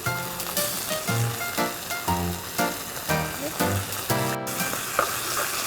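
Shiitake mushrooms are stir-fried in a hot pan, giving a steady, close sizzle broken by regular scraping and tossing strokes from stirring.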